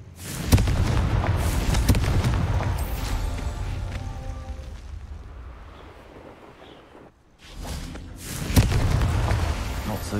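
A Confringo blasting spell explodes in Hogwarts Legacy, heard as a cluster of loud booming bursts and rumbling impacts amid game effects, then a brief lull and another strong blast near the end.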